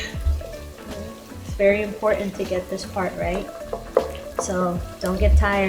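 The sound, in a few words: stirring tomato paste frying in a jollof rice pot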